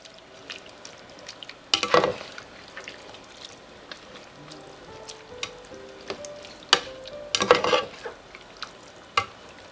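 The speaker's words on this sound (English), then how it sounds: "we're going to put the button mushrooms and fry it all up" Pork salpicao with button mushrooms, oyster sauce and brown sugar fries in a pan with a low, steady sizzle, broken by bursts of loud clattering stirs near the start and again toward the end.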